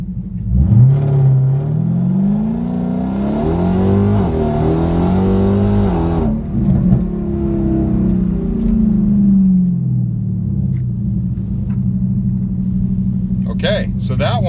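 A 2019 Dodge Challenger Scat Pack or Hellcat on Mickey Thompson tires launches from 0 to 60 on a street, the engine roaring loud and close as it revs up through the gears before easing back to a rumbling idle.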